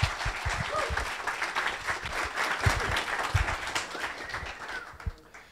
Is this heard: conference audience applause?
yes